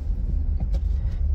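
Road traffic stuck in a heavy jam on the route toward Sangli from Pune, heard as a steady low engine rumble and idling vehicles close by, continuous with no talk.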